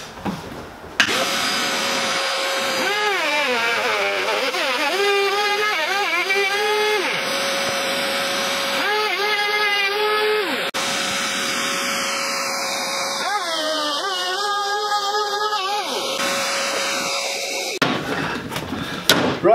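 A vacuum cleaner roars loud and steady while a woodworking router cuts a dado, with rising and falling whine tones and a brief break near the end.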